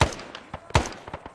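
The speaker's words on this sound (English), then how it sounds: "Bullets are pinging off my rock." Bullets pinging off rock amid gunfire in Arma 3 set in Vietnam, a quick run of sharp cracks and impacts, several close, loud snaps with fainter ones between.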